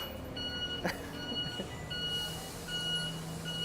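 Stopped city bus on a Taipei street emitting a repeating warning beep: evenly spaced high electronic tones run through the clip over steady traffic hum and engine rumble, with a brief louder clatter near the start.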